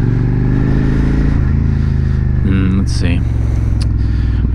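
A 2019 Suzuki SV650X motorcycle engine drones loud and steady close up during a test ride, with a sustained rumbling tone and brief revving shifts, while a rider briefly talks over it.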